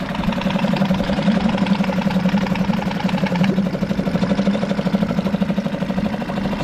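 A Suzuki DF6A outboard motor runs steadily after a pull start, a close, loud, even idle with a rhythmic throb and slight mechanical rattle from its mounting.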